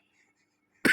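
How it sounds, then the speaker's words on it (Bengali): A single short cough from a man bursts out close and loud at the very end, after near silence. "আব্বু কাশি দেয়"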